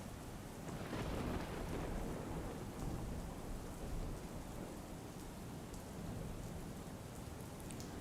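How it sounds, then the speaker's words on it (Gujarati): Steady rain falling over the countryside of the Kwant area in Gujarat, a dense, continuous hiss of drops on surfaces with rumbles of thunder low beneath, constant and moderately loud throughout with no voices. "ક્વાંટ પંથકમાં વરસાદી વાતાવરણ જોવા મળી રહ્યું છે"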